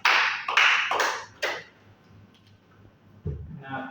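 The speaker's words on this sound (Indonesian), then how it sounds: "Tepuk tangan dulu untuk Emmanuel Rosa" Classroom applause for a student during a primary mathematics lesson: a few bursts of clapping in the first second and a half, then near silence, followed by brief low sounds at the end.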